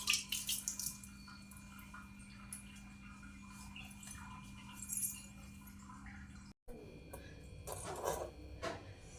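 Running water from a tap splashes over hands being rubbed and washed at a sink during a morning routine, with faint drips and soft clinks, no talking.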